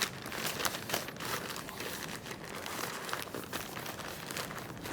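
Butcher paper crinkles and rustles while a chuck brisket is wrapped for barbecue, a close run of crisp crackling and crumpling bursts with no talk.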